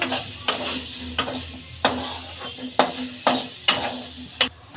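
Water chestnut (singhara) fry with fresh coriander leaves added last, stirred in a pan: a steady sizzle with a spatula scraping in regular strokes about every half second, close and moderately loud, with no voices.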